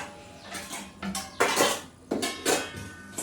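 Several sharp metallic clanks and clatters of pots and dishes being set down, irregular and close, with brief pauses between.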